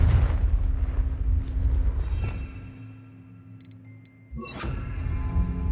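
Confringo blasting spell in Hogwarts Legacy, a loud booming explosion with rumbling low end, a brief lull and crackle, then another heavy blast that carries the rumble on to the end.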